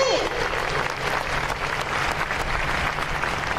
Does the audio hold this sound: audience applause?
yes